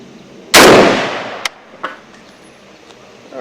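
A single FAL rifle shot fired at 100 yards cracks loud and close, then decays over about a second, followed by two faint short knocks.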